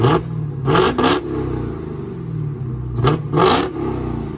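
A 2020 Dodge Challenger Hellcat Red Eye with a supercharged 6.2-litre Hemi V8 revs in two pairs of quick throttle blips, loud and close, settling back to a low rumbling idle between bursts.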